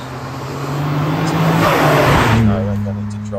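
Nissan Skyline R34 GTR V-Spec II engine droning steadily at moderate revs while driving, a sustained low hum with a slight rise in pitch midway, loud and close, with a person talking over it.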